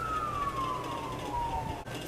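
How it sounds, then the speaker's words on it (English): An ambulance siren passes outdoors, its steady wailing tone sliding slowly down in pitch as it goes by, heard at moderate distance over a constant background rumble of traffic. "Oh, just the ambulance."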